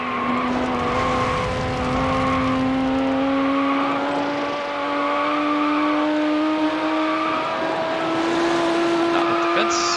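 A race car engine in Need For Speed Hot Pursuit 2 holds a steady, loud drone that climbs slowly in pitch as it accelerates through the gears, with a brief dip partway through.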